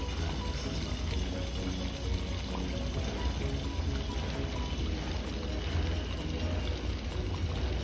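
Mysore bonda batter dropped into hot oil for breakfast, a continuous dense sizzle and bubbling that stays steady and close throughout, with no talk.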